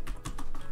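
Quick keystrokes on a computer keyboard while typing a command in Maya, a few close, crisp taps in uneven rhythm, no speech.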